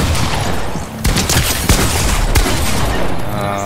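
Video game gunfire rattles in loud, continuous bursts, with sharp individual shot cracks punctuating a dense barrage of automatic fire.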